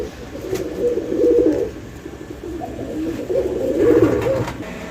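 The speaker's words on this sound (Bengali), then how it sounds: "এটা হচ্ছে খুব সুন্দর একটা কালারের বিগ সাইজের একটা ধামাসিন কবুতর" A pair of big-size pigeons for sale coo close by, soft throaty calls rising and falling in a few repeated bursts against a quiet background.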